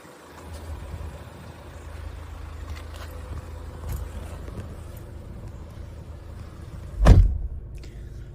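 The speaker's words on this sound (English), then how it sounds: "As we approach the boot, we can see that it's electric." The electric tailgate of a 2016 Kia Sorento diesel hums with a low, steady motor whir as it rises, ending in a sharp, loud thud near the end; no one speaks.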